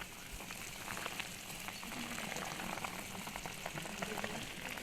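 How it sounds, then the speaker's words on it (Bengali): Broth for a shrimp and lentil-fritter curry with Malabar spinach boils in a pot, giving a quiet, continuous bubbling with small scattered pops throughout. "এইবারে কিন্তু ভালো মতো ফুটছে"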